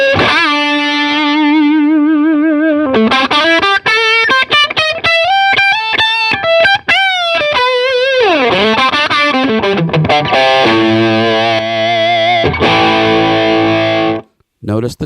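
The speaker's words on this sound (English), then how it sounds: "It's a nice little clean boost without changing anything." Electric guitar played through a Granville Mr Neutron Deluxe overdrive pedal set as a clean volume boost, loud sustained notes, bends and quick runs ringing continuously before cutting off at the end.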